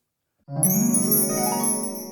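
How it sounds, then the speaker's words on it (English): A small bell chimes once, signalling someone at the door, its bright tinkling tone ringing out clearly and decaying slowly over about a second and a half. "that tiny little bell means that someone's at the door"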